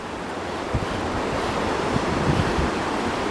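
River rapids run past old factory ruins, a steady broadband rush of water mixed with wind buffeting the microphone, continuous and fairly loud with no talk.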